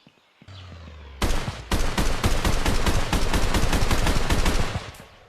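Turret gunfire at a military encampment in the VR video game The Haze on Quest 2: after a short lead-in, rapid automatic shots hammer out in a loud, steady burst for about four seconds.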